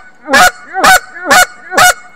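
A goose call is blown to imitate Canada geese, giving four loud, evenly spaced honks, each rising then breaking, close and alone with no talking.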